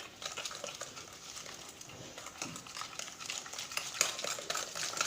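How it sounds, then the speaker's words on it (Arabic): Eggs and sugar being whisked together in a bowl for madeleine batter, a steady scraping swish of the whisk against the bowl running continuously at moderate volume, with no voices. "نخدمو البيض والسنيده"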